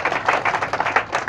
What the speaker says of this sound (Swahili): Hebu piga Kristo makofi zaidi.